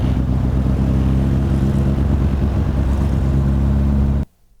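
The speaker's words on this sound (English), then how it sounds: "Old Beetle car. This is where we get in kind of the discomfort of this old truck." An old Volkswagen Beetle car rumbles in a low, steady drone, loud and close, then cuts off abruptly just before the end.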